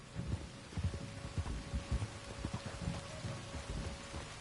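Rain falls steadily in an outdoor scene of the Red Dead game, with a constant hiss and irregular low thuds and rumbles, like distant thunder, running underneath.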